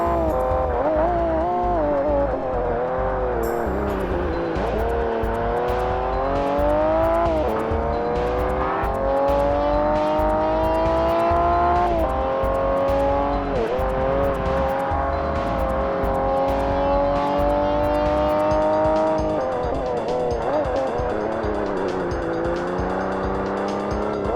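A Ferrari 612 Scaglietti in the 2005 Forza Motorsport game screams through repeated gear shifts, its engine revving up and dropping continuously and loudly, with occasional tire squeal and no talking.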